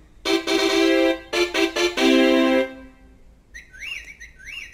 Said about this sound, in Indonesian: Kira-kira kayaknya ini bunyi burung.